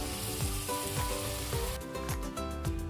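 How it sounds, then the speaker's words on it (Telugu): Washed mutton trotters (paya) go into a hot pan with fried ginger for a curry, setting off loud, continuous sizzling and frying with a few stirring scrapes. "ఇప్పుడు మనం కడిగి పెట్టి ఉంచుకున్న కాయ వేసేద్దాం."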